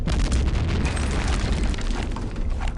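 Grenade blasts in Return to Castle Wolfenstein, a dense, continuous rumbling roar of explosions with heavy low booms that fill the whole moment.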